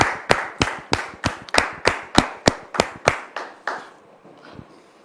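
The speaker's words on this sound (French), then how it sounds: "sous vos applaudissements." Rhythmic clapping from a television studio audience during a talk show, about a dozen sharp, evenly spaced claps that fade out near the end, with no one talking.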